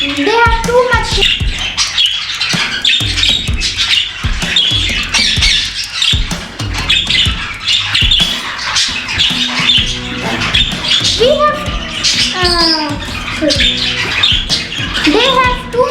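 Exhibition parrots, a large breed with heavy head feathering, squawk and screech loudly and continuously at close range, with dense overlapping calls and chatter throughout.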